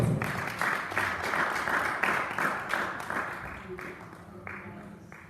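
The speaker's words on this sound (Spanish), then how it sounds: "Un aplauso." A church audience claps together in a modest burst of applause, steady at first and then thinning and fading toward the end.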